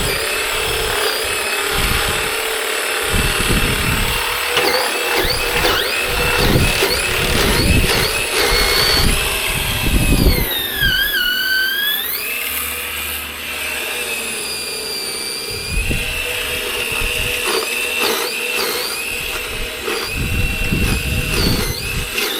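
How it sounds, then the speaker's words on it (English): A snow blower engine running steadily close by, a loud continuous mechanical drone with shifting pitch and scraping, churning bursts over about twenty seconds. "I'm gonna try this snow blower out."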